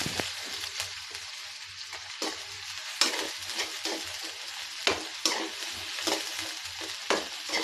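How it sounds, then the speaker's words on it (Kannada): Thinly sliced onions and green chillies sizzle steadily in a pan for vegetable fried rice, a close, even frying hiss broken by repeated scraping stirs of a spoon. "ಇದೊಂಚೂರು ಕೆಂಪಗಾಗಂಗೆ ಗೋಲಿಸ್ಕೊಳ್ಳಿ ಈರುಳ್ಳಿ"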